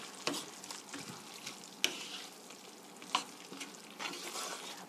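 Chicken and cabbage stir-fry in a pan, a soft sizzle broken by several sharp scraping clatters as the food is mixed, fairly quiet overall with no talking.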